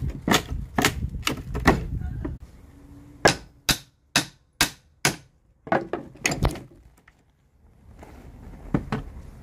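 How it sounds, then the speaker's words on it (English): Sharp metallic clacks of one hammer striking another, a quick cluster followed by a slower, evenly spaced series of ringing strikes, loud and close. "don't bang a hammer with a hammer?"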